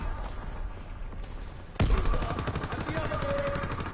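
Rapid automatic gunfire in Call of Duty WWII, a dense rattling burst that erupts suddenly after quieter ambient noise and continues loud and sustained.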